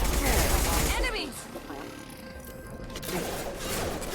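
Gunfire erupts during a firefight against enemies in the Mass Effect 2 video game, with loud bursts of shots at the start, a quieter stretch of game effects, then more firing near the end; talk runs over it.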